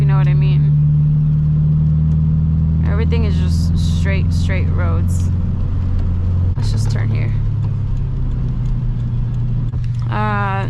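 A 2014 Subaru BRZ's engine and exhaust drone steadily from inside the car while driving on flat, straight roads, a constant low hum beneath someone talking most of the way through.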